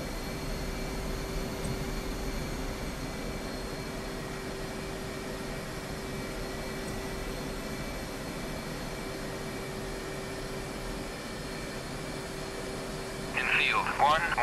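An F-18C jet in the DCS flight simulator spools up for takeoff, a steady loud engine roar and whine holding evenly throughout, with a brief burst of crackle near the end.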